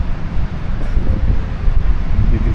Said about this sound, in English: It is windy. It's blowing in strong.